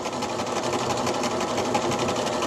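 Sewing machine topstitching a seam along the stitch ditch, a steady fast mechanical chatter of needle strokes, close and even, with no voices.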